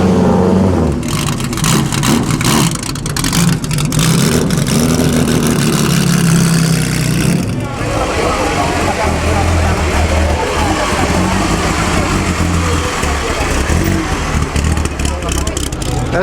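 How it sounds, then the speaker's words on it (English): A Maserati twin-engine race car, two four-cylinder engines in a row, runs loudly at the Mille Miglia road race, rumbling and revving near the microphone with crowd noise and talk around it. "Sounds like a V8. It's two 4-cylinder engines in a row."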